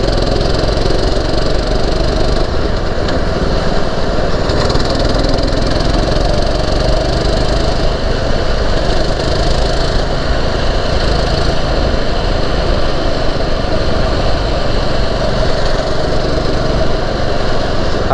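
Go-kart engine on a kart track, a loud, continuous buzzing high-revving small engine droning steadily for the whole stretch, close and unbroken without speech.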